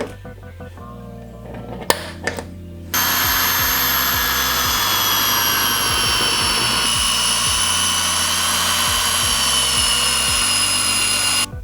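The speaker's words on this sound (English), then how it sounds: "Go ahead and center punch those and drill those out" A power drill bores holes for an OEM spoiler on a 2003 Honda Element EX, whining loudly and steadily with its pitch dipping repeatedly under load after a few short clicks and taps.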